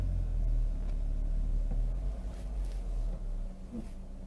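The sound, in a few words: car engine sound changing as clutch is held on hill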